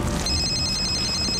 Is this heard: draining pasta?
no